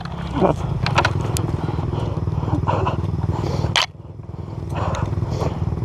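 Yamaha YZ 250 dirt bike engine running steadily on a forest trail, a loud continuous drone with brief revs that dips sharply near the end before picking back up.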